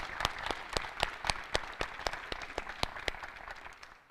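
A fairly faint, steady round of applause at a school graduation ceremony, individual claps distinct over a soft crowd bed and fading out after a few seconds.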